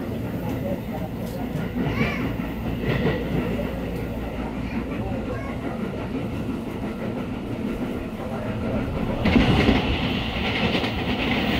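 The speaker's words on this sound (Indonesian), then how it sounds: "Barusan kita papasan dengan kereta api Cikuray dari Garut." Cikuray intercity train from Garut passing alongside a moving train, a steady broadband rumble of wheels and carriages with rhythmic rail clatter, a louder swell near the end, and voices talking over it.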